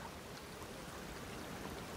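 Wild stream flowing in the video game Everybody's Gone to the Rapture, a steady broadband rushing of water with no pauses, moderately loud and alone.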